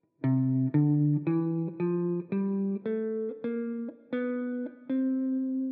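Plucked guitar notes climb a dominant bebop scale one at a time, about ten clean notes in an even, steady rhythm with no voices.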